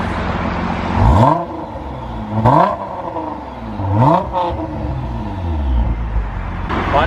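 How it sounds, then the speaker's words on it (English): A Nissan GT-R R35 fitted with an ARMYTRIX exhaust is revved in a series of sharp blips, roughly four rising rev surges over a steady idle, loud and close. "So I'll give it a few revs."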